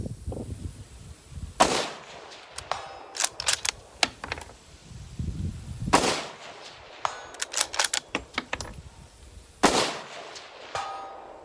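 Unsuppressed rifle shots ring out at an outdoor range, each loud crack followed by the faint ping of a distant steel target out to 300; about seven or eight shots come in irregular groups, with no talking.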